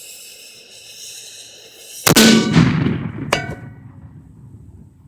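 A homemade bowling ball mortar loaded with 3 ounces of powder fires one loud, sharp blast that rings and decays over a few seconds, with a second crack about a second later.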